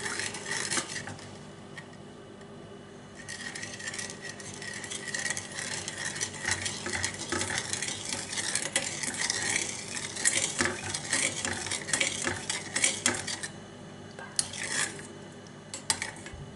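Utensil scraping and clinking in a pot while a mixture for torta imperial is stirred and thickened, steady rattling and scraping throughout with brief louder clanks, no talk.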